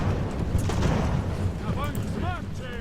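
Naval cannon fire from sailing ships in the strategy game Ultimate Admiral: Age of Sail, a rolling series of deep booms layered over rumbling battle noise, with whistling projectile sweeps near the end.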